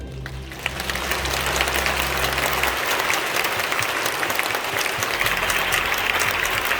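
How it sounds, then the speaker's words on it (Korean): A church congregation gives loud, sustained applause to welcome Korean war veterans at a memorial service, the dense clapping swelling after a brief start and continuing steadily throughout. "여러분 큰 박수로 환영해 주십시오"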